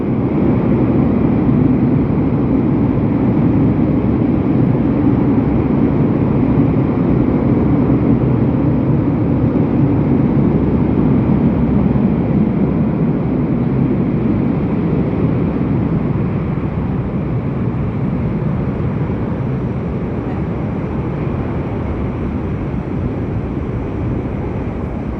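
Two airplanes wait on the ground at an airport for tower clearance to take off, their engines holding a loud, steady roar for the whole stretch that eases only slightly toward the end.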